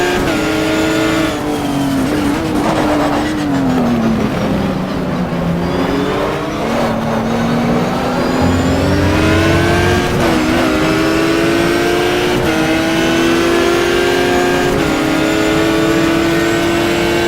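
Porsche race car in the GTR2 racing game, its engine droning steadily and loudly throughout, pitch dipping and climbing through gear changes as it accelerates and brakes, with faint tyre noise and no talking.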